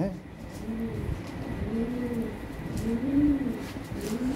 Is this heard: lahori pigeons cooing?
yes